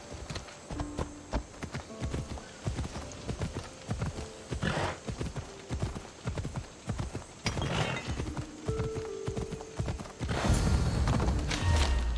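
Hooves of the horse Phobos galloping in Assassin's Creed Odyssey, a steady loud clip-clop rhythm close by for most of the stretch, with a neigh and a brief voice near the end.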